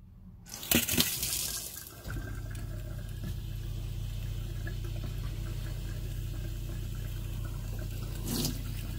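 Hot water gushing steadily from a tap in a self-built VW Crafter campervan with a Truma Ultra Store heater, a sudden burst at the start settling into a continuous close, even rush of flow.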